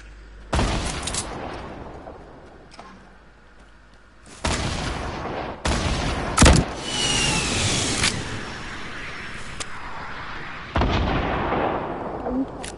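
Gunfire and explosive blasts in the video game Fortnite, loud broadband bursts and sharp cracks recurring irregularly, with a few sustained heavy volleys and quieter gaps between.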